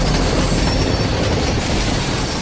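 A runaway freight train with its emergency brakes applied rolls down the tracks: a loud, continuous roar of wheels and rail noise with faint clatter and squeal, close and steady, no voices.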